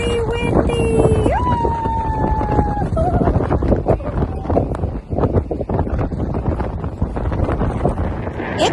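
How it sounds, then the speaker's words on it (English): Strong wind at Grayton Beach on a double red flag day roars loudly and steadily into the microphone for the whole stretch, with a brief tonal whistle near the start. "Can you hear the wind?"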